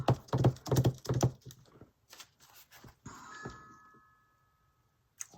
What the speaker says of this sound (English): There was a bell.